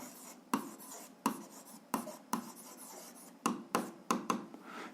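A pen scratches across paper, sketching a straight-line graph for a seventh-grade algebra exercise: a steady run of short, distinct strokes and taps, close and soft, with no voices.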